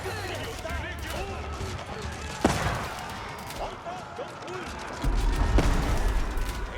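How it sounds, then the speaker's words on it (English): Cannoneers fire in Age of Empires during a Golden Horde versus Zhu Xi's Legacy match: a few sharp, booming cannon blasts punch through a dense battle din, with a commentator talking over the action. "And Cannoneers firing away."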